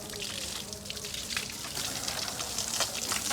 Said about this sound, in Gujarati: નળીને ફુવારો મારવાનું ચાલુ કર્યું.